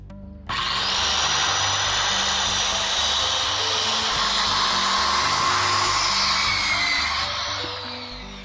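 Circular saw cutting wooden boards to size for building a swing, a loud, sustained whining cut that starts abruptly, holds steady for several seconds and trails off as the blade winds down.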